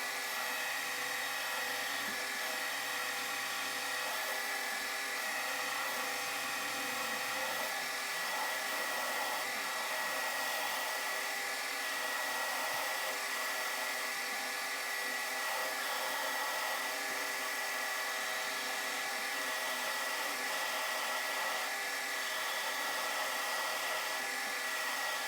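A metal milling machine with a servo power feed runs in a workshop, giving a steady, loud whine and hum with constant tonal lines and no talk.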